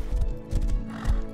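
A horse in the survival video game Rust clip-clops with a few quick hoof beats and a whinny, close and loud in a short burst.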